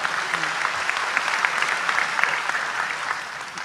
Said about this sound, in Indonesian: Tepuk tangan untuk beliau, enggak apa-apa.